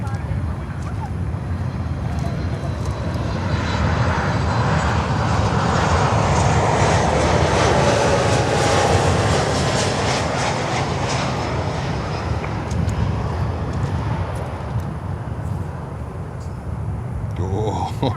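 Heavy cargo aircraft touching down on a runway at Miami International Airport, a loud, continuous broadband roar of engines and rushing air that swells through the middle and then eases slightly, with faint speech in the background.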